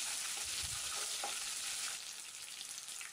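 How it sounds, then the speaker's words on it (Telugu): Curry leaves crackle and fry in hot oil for mango rice, giving a continuous hiss with faint scraping stirs and no voices. "కరివేపాకును కూడా వేసుకుని వేపుకోవాలి."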